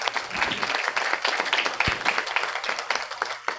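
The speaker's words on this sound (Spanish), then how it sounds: "para quien pido un fuerte aplauso" A dense, steady round of applause from an audience at an Amazonian journalism panel in Zamora Chinchipe, many hands clapping close together and sustained throughout without pause.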